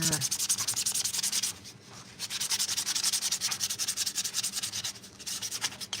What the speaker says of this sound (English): let's get a little bit of sanding done here